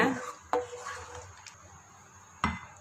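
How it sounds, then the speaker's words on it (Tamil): Scraping and clinking of a spoon stirring Kerala-style fish curry in a metal pot, with a couple of sharper knocks against the metal, close by and fairly quiet. "எல்லாத்தையும் ஒருத்தர் நல்லா கலந்து விட்டுருங்க"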